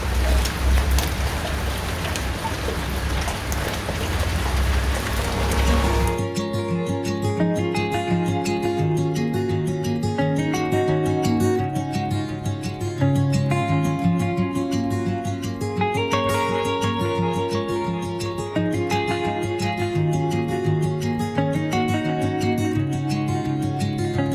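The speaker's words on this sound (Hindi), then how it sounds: "अच्छी खासी बारिश हो रही है बाहर।" Heavy rain falls outside a home in the UK, a steady dense broadband wash for the first six seconds before music takes over and covers it for the rest.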